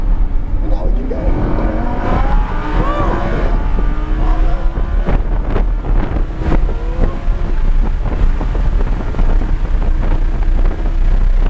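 Lamborghini Huracan with a 610 HP naturally aspirated engine, no turbo, accelerating hard out of a corner on the Dominion Raceway track in Virginia. The engine note climbs loudly and continuously under heavy wind rush, with occasional voices over it.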